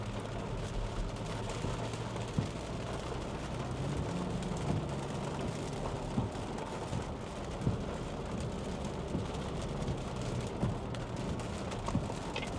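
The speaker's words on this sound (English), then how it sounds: "the rain is steady coming down, but it's not like a complete downpour" Steady rain during Tropical Storm Debby near Myrtle Beach, South Carolina, a continuous even wash of falling water with occasional faint knocks, heard alone without voices.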